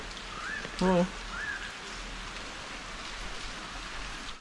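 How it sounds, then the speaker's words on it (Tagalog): Steady rain falls outside a house in Australia, a soft even patter throughout, broken near the start by a brief exclamation from a voice and a couple of faint chirps. "Umuulan ngayon."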